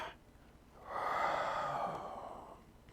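A long, soft exhale during a yoga breathing exercise, rising after a quiet moment and trailing off slowly, close and alone.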